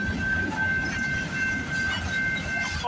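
A work train rolls past at night at West Toronto, with a steady loud rumble and faint rail clatter and a thin high whine held throughout.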